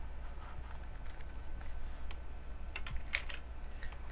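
Computer keyboard keys clatter in a quick, uneven patter over a steady low background hum, with a couple of sharper key strikes standing out, while someone works in Photoshop.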